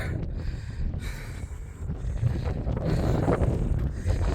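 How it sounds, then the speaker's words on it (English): Wind gusting across an open hilltop on Dartmoor on a hot, breezy day, a loud rumbling buffet that swells and eases continuously with no talk. "It's quite breezy up here today"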